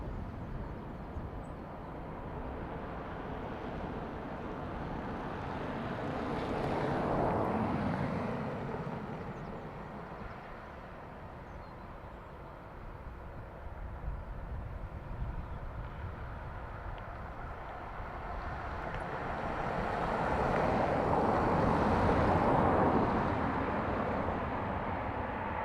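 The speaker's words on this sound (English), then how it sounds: "Aer Lingus A320 from Barcelona" An Aer Lingus Airbus A320 arriving from Barcelona at Dublin Airport, a broad distant jet roar that swells, fades slightly, then builds again louder toward the end, with no talking.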